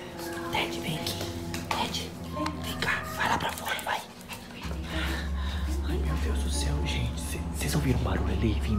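Dogs bark now and then in a home, mixed with clattering dishes and panting, while people talk anxiously throughout over a steady low hum.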